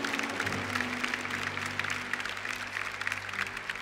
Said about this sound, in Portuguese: Aplaude mais forte, gente.